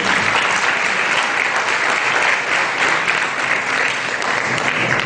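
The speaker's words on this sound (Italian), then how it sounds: "vi chiederei di fare un applauso proprio in questo momento" Loud, sustained applause from a large audience at a conference, a dense, even roar of clapping that holds steady throughout.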